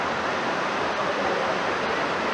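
A waterfall at Cuetzalan, Puebla, pours in a continuous broad rushing roar, steady and fairly loud with no breaks or voices.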